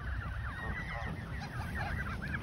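Canada geese honk repeatedly at Carolina Beach Lake, overlapping calls near and mid-distance, moderately loud over a steady background hiss.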